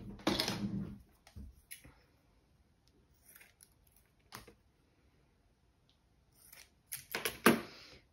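Scissors snip through scrapbooking ribbon in a few short, crisp bursts spread across a quiet stretch, close and fairly soft, with a bright cluster of cuts near the end.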